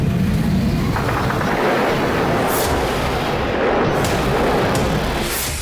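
Artillery fire in the Khasham area of Syria, a continuous heavy rumbling roar with deep booming undertones and a few faint sharper cracks, loud and steady throughout with no voices.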